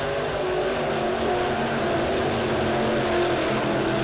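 A USRA B-Modified race car roars around the oval at Springfield Raceway under the lights, a loud, continuous engine drone that fills the whole stretch without a break.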